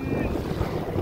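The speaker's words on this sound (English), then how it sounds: "It's pretty windy down here." Strong wind buffets loudly and continuously at a beach, roaring against the microphone with a faint rush of surf underneath.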